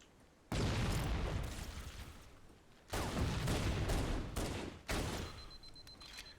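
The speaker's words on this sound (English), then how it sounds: "we're just gonna methodically get through this by using Magnum here" Magnum pistol fire in Halo: Combat Evolved, three separate loud blasts spaced a couple of seconds apart, each with a long booming, rumbling tail that fades before the next shot.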